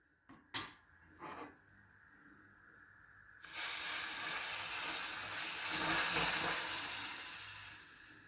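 Prepared sauce poured over milky lentil soup sets off a loud, steady sizzle that rises sharply and hisses for several seconds, after a few faint clinks of utensils, with no talking.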